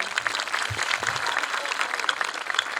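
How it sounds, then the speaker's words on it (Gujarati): A crowd claps continuously at a community gathering and education ceremony, a dense, lively applause filling the space without pause. "અમારા તમામ કલાકારો માટે એકવાર જોરદાર તાળીઓ."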